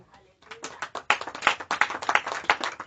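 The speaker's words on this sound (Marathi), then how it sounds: "वाव, टाळ्या वाजा." A church congregation claps along, many hands beating in a quick, steady rhythm that starts softly and grows louder, with voices mixed in.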